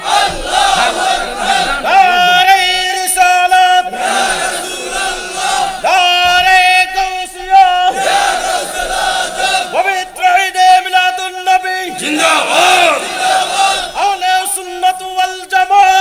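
A large religious gathering chants takbir in loud unison, a lead voice calling and the crowd roaring back "Allahu Akbar" in repeated waves every couple of seconds, dense and sustained throughout.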